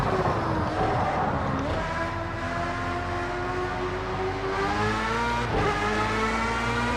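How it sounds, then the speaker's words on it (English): A race car engine in Project CARS 2 revs hard and close, its pitch climbing steadily, dipping briefly, then surging again to a strained over-revved whine that holds throughout. "kind of over-revved the car there, which you don't want to do"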